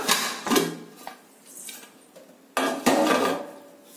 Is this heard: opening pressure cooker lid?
yes